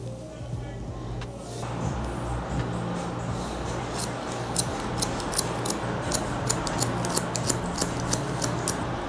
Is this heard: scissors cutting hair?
yes